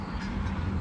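Waterfowl honking on a shallow carp fishing lake crowded with birds, a dense, loud, continuous chorus of honks and quacks packed into a brief burst with no talk.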